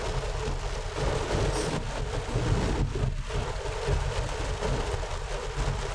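Steady rain heard from inside a moving car on a rainy day in São Francisco, a continuous broad wash with low road rumble underneath, no talking.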